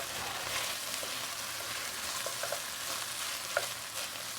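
Meat stirred with ketchup and tomato paste in a pan over lowered heat for chicken stroganoff, a soft steady sizzle with light scraping and a few small clinks of the utensil, close and continuous with no talking.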